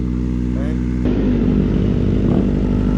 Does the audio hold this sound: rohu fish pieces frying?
no